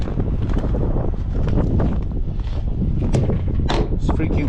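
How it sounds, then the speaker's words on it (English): Strong wind buffets the microphone outdoors in a constant, loud, rumbling roar, with a voice partly heard over it. "windy."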